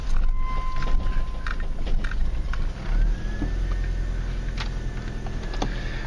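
A 2-litre automatic Mazda engine idles high at around 1200 rpm, giving a steady, moderate low hum and rumble with faint intermittent clicks and a thin whine drifting in and out.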